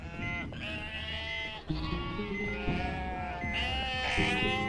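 Sheep in Metal Gear Solid V bleat in a few long, wavering, nasal cries, close and fairly loud over a dense low background hum.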